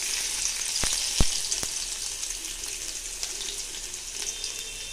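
Black cumin and five crushed garlic cloves fry in oil in a wok with a steady, close hissing sizzle, broken by a few sharp pops and clicks.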